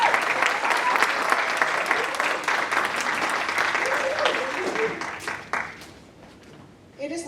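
Sustained applause from the audience at a Phi Theta Kappa honor society induction ceremony at Hostos Community College, a steady wash of clapping from a large crowd that gradually fades out toward the end.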